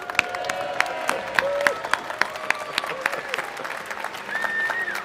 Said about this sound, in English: Round of applause for Crash